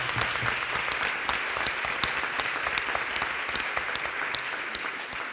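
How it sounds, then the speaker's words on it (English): A school audience gives a steady round of applause at a Board of Education meeting held at a high school, with dense, even clapping that holds close and loud throughout. "one more round of applause."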